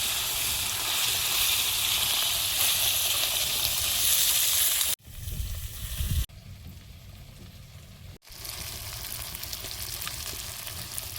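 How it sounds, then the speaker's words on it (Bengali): Bele fish sizzle loudly in hot oil with a dense, steady hiss. Abrupt cuts break the frying into several segments at different levels, and one quieter stretch has a low rumble. "এবার বেলে মাছগুলো ভেজে নেব।"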